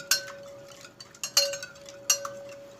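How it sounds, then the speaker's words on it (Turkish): Eggs and sugar being whisked in a bowl for pancakes, with a few distinct clinks of a whisk striking the bowl rim against a faint background hum, fairly quiet and irregular. "Çırpıyorum yumurtayla şekeri."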